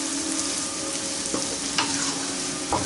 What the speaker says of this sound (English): We're gonna cook that cabbage down, man